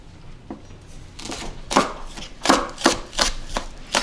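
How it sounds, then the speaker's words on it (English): A kitchen knife chops scallions on a cutting board, delivering about eight crisp, close strokes in an uneven rhythm that quickens toward the end, with no voices. "I am cutting up 3 scallions, 3 green onions"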